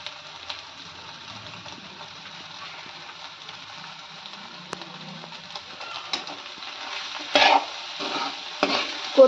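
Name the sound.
stirring coriander into frying egg bhurji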